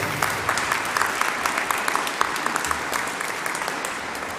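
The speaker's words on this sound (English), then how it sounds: "do you mind giving these guys a round of applause?" An audience at a college graduation ceremony at Stirling Castle applauding a group of performers, steady dense clapping that holds at an even level throughout.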